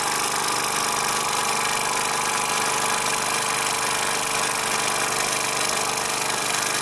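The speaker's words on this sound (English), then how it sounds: "Very powerful engine." A Bowman M140 engine running on compressed air gives a loud continuous hissing, rattling whir, steady and close throughout with no speech.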